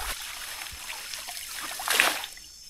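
A boat paddle dips into floodwater left by heavy afternoon rain, with soft trickles and drips and one louder splash near the end, close and fairly quiet.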